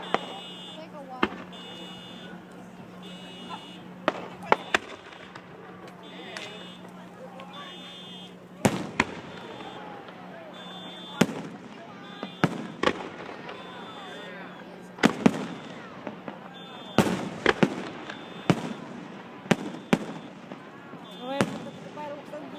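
A fireworks show with scattered sharp bangs and crackles, some near and loud, others fainter, popping irregularly over a steady background hum.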